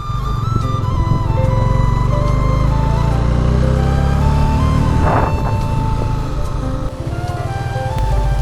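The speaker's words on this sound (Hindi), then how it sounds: "थोड़ा थ्रॉटल ओपन करो तो आवाज एकदम क्रिस्प लगती है पहाड़ों में।" Honda CB300F motorcycle riding a mountain road near Kalpa, its engine a steady close hum that rises and shifts with throttle, under rushing wind, with no talk.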